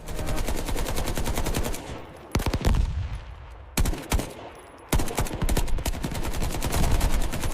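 Rapid automatic gunfire rattles in long bursts, loud and close, with brief pauses between volleys and sharp single shots breaking through.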